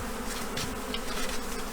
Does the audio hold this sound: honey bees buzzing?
yes